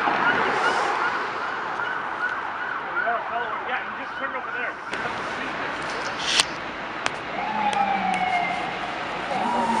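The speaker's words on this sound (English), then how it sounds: "What is that weird underwater sounding siren?" An ambulance passes along Sherbrooke Street in Montreal with its siren wailing in fast, oddly warbling sweeps. The siren is loud and close in traffic, then gives way to short whoops and a lower tone as a voice talks over it.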